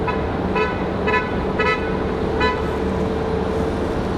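A car horn toots several times in short, evenly spaced bursts over steady traffic and engine rumble at an airport roadside, moderately distant and clearly audible above the background.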